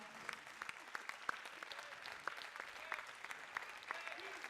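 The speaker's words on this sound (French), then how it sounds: "Oui, applaudissez-les, applaudissez-les." Steady audience applause, many hands clapping continuously at a moderate distance, filling the whole stretch without pause.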